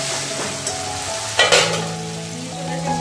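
Spiced masala with a little sugar sizzles in a pan for homemade chicken biryani, a steady frying hiss broken by a few sharp clinks and scrapes of a stirring spoon.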